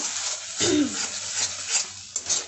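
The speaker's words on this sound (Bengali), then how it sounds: "অনেকক্ষণ ভাজতে হবে এখন।" Raw banana peel paste with garlic fries in a pan with a continuous close sizzle, punctuated by stirring scrapes of a spatula against the pan; no talking.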